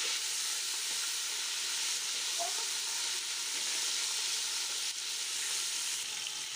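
Tomatoes hitting hot oil with browned onions for chana pulao, a steady, bright sizzle and hiss that holds evenly throughout at close range, with no talking.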